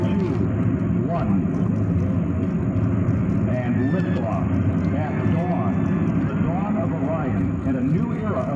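Delta IV Heavy rocket lifting off at dawn with the Orion EFT-1 capsule, a continuous deep roar that fills the whole clip, steady and loud, with distant crowd voices and cheering mixed beneath it.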